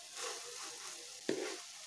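Shredded cabbage being stirred and mixed in a hot pan, a soft continuous sizzle with a brief sharp scrape of the utensil midway.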